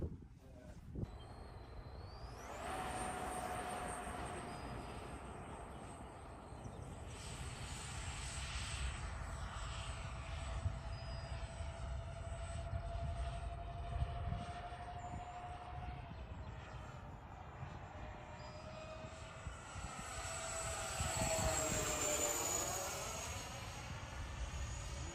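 A newly built model airplane on its first flight, its engine a thin, sustained whine that shifts in pitch as it passes and fades, heard from a distance over light outdoor background noise.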